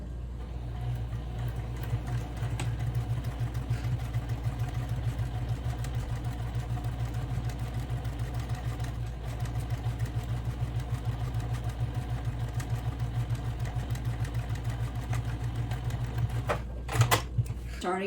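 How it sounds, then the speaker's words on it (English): An electric sewing machine stitches the printed side fabric of a homemade eco bag. It runs as a steady, close mechanical hum with a fast needle clatter that continues almost unbroken, then stops near the end. "now I'm going to start to sew the printed side fabric."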